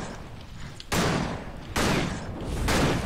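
Gunshots from a gun in the action RPG Victor Vran, three loud sharp bursts spaced under a second apart over a quiet background.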